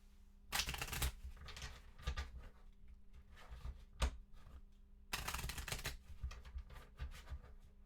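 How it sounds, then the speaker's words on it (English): A deck of cards riffle-shuffled during a solo Arkham Horror tabletop game, two distinct bursts of rapid crisp flutter a few seconds apart with soft handling clicks between, close and quiet with no talking. "And then we shuffle the deck."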